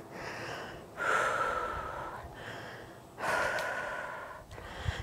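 Heavy, labored breathing during a deadlift-to-squat circuit workout: two long, loud breaths with sharp gasping inhales and snorting exhales, spaced about two seconds apart, close and unaccompanied by talk.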